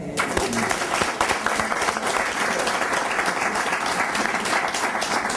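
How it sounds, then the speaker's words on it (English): Audience applause at a Medicare hearing aid coverage event, celebrating Social Security's 80 years; dense, steady clapping from a crowd fills the whole stretch at close range with no voices over it. "Let's clap for that."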